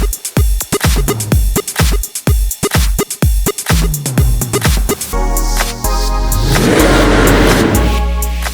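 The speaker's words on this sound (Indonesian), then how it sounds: "ini adalah hypercar Koenigsegg CCX yang didatangkan langsung dari Swedia" A Koenigsegg CCX hypercar engine blips in a rapid series of sharp revs, then rises into a long sustained roar close by, loud and alone with no talking.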